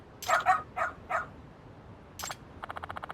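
Dog barking in the Lost Judgment video game: a few close yips and barks, then a short burst of rapid, evenly spaced clicks.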